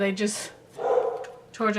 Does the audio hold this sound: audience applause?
no